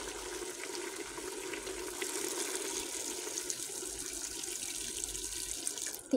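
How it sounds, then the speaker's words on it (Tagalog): Water streams steadily from a faucet into a pot for a squid and crab dish with tomato paste, a continuous gushing splash lasting several seconds with a small clatter at the end. "Lalagyan ko na siya ng konting tubig."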